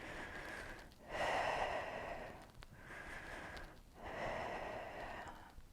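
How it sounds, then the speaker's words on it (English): Slow, steady breaths during a beginners' yoga session, each long inhale and exhale close and clearly audible, with a soft airy rasp and no talking. "Remember to breathe steady."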